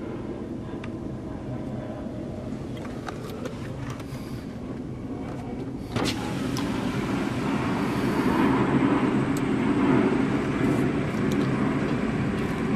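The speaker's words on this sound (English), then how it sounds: "There's a plane taking off over there." An airplane takes off near O'Hare, heard from a distance as a steady broadband roar that swells a little louder partway through, with outdoor background noise throughout.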